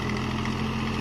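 Deutz Fahr Agrolux 50 4WD tractor running in low second gear at 2000 RPM in a muddy field, a steady, loud, continuous diesel drone with no gaps.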